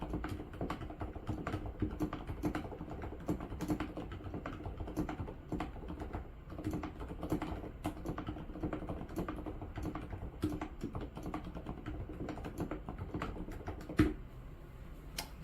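Steady, fast typing on a keyboard fitted with Hape/Kailh Ice Cream Pro switches, a dense run of soft, muted key clacks with one sharper thump near the end, close and alone with no voices.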